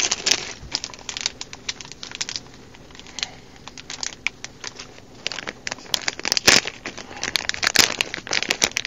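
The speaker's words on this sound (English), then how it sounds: "A lot of crinkling." Plastic packaging from Halo Mega Bloks singles crinkles and crackles near the mic in irregular bursts, with sharp louder rustles toward the end and no talk.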